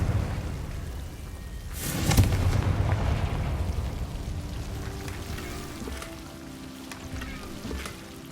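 A Confringo blasting spell from Hogwarts Legacy bursts with a sudden sharp explosive crack, then trails off into a crackling, rain-like rumble that slowly fades.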